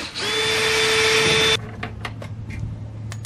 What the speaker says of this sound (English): I'm probably gonna end up drilling through the splitter on the bottom to secure all of this stuff